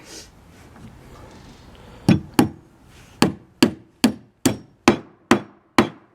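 Hammering nails into wood while building an outhouse: after a quiet stretch, nine sharp, ringing hammer blows land near the microphone in an uneven rhythm, each one ending in a short decay.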